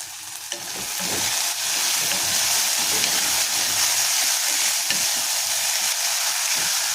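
Potato pieces seasoned with salt and turmeric fry in a pan, giving a steady, close, continuous sizzle with faint stirring scrapes throughout and no talking.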